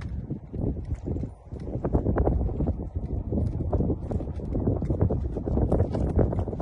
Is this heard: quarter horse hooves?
yes